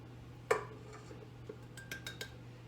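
A spoon or utensil taps and clinks against a bowl while salt is stirred into cookie dough ingredients, a sharp knock followed by several light, faint clicks over a quiet hum.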